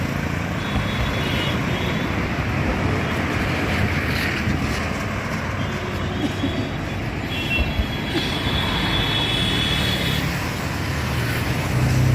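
A passenger launch moves along a river near a bridge, its engine and rushing water forming a steady, continuous rumble with wind noise throughout.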